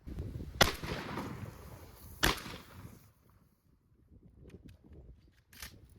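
A Taurus TX22 pistol fires at a target dummy, two sharp distinct shots a couple of seconds apart followed by a fainter third crack, with quiet rustling in between.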